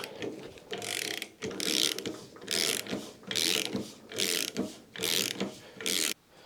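Kingpin being worked out of the front axle of a Citroën AZU with a kingpin tool, giving repeated loud ratcheting, grinding bursts in a steady rhythm of about seven strokes, close up with no talking.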